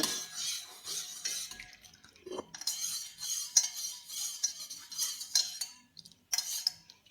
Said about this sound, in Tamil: நல்லா மிக்ஸ் பண்ணுங்க.